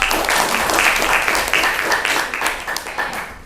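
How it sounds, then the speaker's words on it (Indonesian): A class applauding a student group, a bright, dense burst of clapping from a small room of people that swells in uneven waves before gradually thinning out. "tepuk tangan untuk kelompok"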